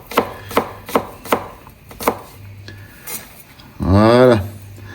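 Knife slicing an ingredient on a cutting board while preparing garlic-and-Espelette-pepper squid, a run of crisp evenly spaced chops, then a short pause and a brief louder scraping sweep at the end.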